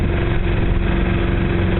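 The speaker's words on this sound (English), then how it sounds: "Turn the engine on," A sailboat's auxiliary engine idles steadily on Lake Michigan with the foresail furled, a loud, even mechanical drone with a regular low throb that holds constant throughout and carries no voices.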